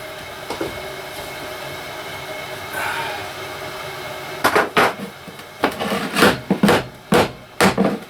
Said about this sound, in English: Now I'll get a block of wood and a hammer.